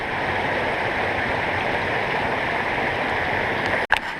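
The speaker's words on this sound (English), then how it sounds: "Here's the creek as it goes behind us," A creek in the Zion-Bryce area flows with a steady, close rushing babble, continuous throughout, ending in a sudden sharp knock.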